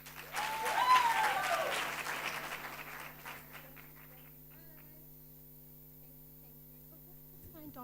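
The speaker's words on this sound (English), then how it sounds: "A round of applause, please." An audience at a World Intellectual Property Day celebration gives a burst of clapping that swells and then tapers off over a few seconds, leaving a steady electrical hum.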